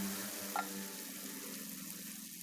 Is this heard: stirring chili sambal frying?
yes